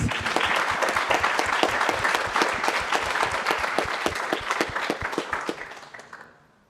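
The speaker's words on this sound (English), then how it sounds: "let's maybe give them a round of applause" An audience at a closing ceremony of an awards event applauds in a dense, steady burst of many clapping hands, full and close, then thins out and fades away near the end, with no voices on top.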